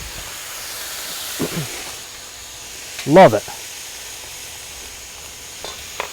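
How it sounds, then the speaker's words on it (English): Chicken dumped onto a hot hibachi stone gives a steady, close sizzling hiss, with someone speaking briefly over it. "Love that sizzle."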